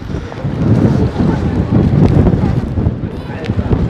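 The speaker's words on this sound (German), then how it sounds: "Oh Gott, ich komme gar nicht gegen den Wind an." Strong wind gusting outdoors on a winter street in Frankfurt am Main, a loud broadband roar and buffeting against the microphone that persists throughout with no break.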